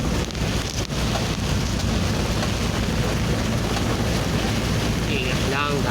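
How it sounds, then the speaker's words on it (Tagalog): Steady heavy rain pouring in a mountain forest, a dense, loud, continuous hiss with wind buffeting the microphone and brief faint chirps near the end. "ulan"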